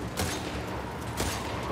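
Gunfire erupts during a firefight in The Last of Us Part II, two sharp shot bursts cracking over a noisy, busy background of combat sounds.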